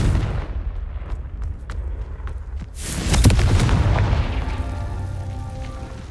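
A Confringo spell goes off in a Harry Potter video game: a deep booming blast lands about halfway through, rumbling and crackling over ongoing low game noise, with earlier faint thuds leading up to it.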